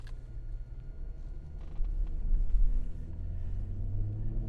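A 2018 Porsche Panamera 4 with a turbocharged V6 drives along, its low engine and road rumble steady and close, swelling slightly midway.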